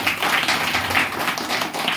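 A church congregation claps together at a Christmas service, a dense burst of many hands beating a loose, continuous patter at close range for the whole span.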